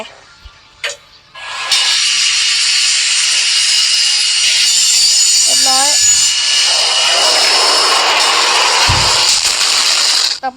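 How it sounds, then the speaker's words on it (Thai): A steady, loud, broadband grinding rasp of a saw cutting runs continuously for most of the clip, starting abruptly after a brief quiet opening. "อันนี้คือเลื่อย"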